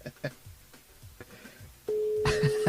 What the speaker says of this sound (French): on appelle Muriel du côté de Trois-Bassins ce matin